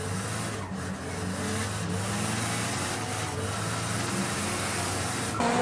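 Drift cars in a D1 GP twin drifting run, heard from on board, with a steady loud engine roar and rough, gritty tire scrub that continues without a break, no voices.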